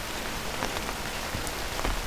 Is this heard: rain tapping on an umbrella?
yes